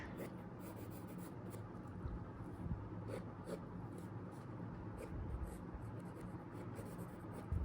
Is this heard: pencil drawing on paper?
yes